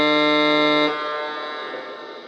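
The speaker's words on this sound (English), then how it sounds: "This does have an air horn on it." A Lionel TMCC GS-2 model locomotive sounds its air horn: one loud, steady multi-tone blast that cuts off abruptly after about a second, leaving a fading reverberant tail.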